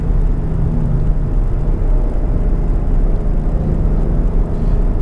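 A Ford Mustang GT V8 drones steadily while driving, a loud, constant low rumble heard from inside the car with no speech.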